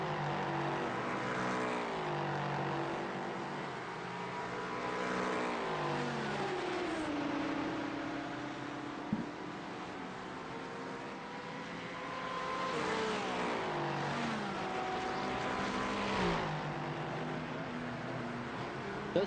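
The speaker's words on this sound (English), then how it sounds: "Those Porsche Cup cars can do some very, very long runs." Porsche Cup race cars lap a circuit during an endurance race, their engines droning steadily with rising and falling revs and gear shifts, loud and continuous throughout with no pauses.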